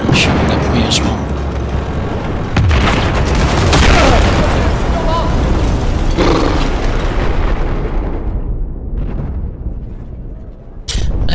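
Loud, dense battle noise from Battlefield 4 on the Hainan Resort map: continuous gunfire and booming blasts, with a heavy burst near the start and another near the end.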